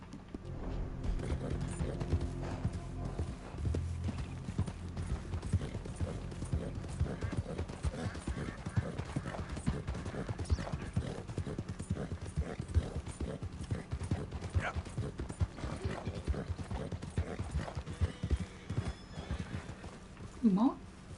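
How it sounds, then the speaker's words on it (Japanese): Horse hooves clip-clopping steadily in Red Dead Redemption 2, a continuous walking rhythm close up with occasional snorts and a whinny, under ambient game sound and occasional speech. "馬？"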